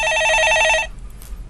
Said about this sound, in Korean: 전화 받아보겠습니다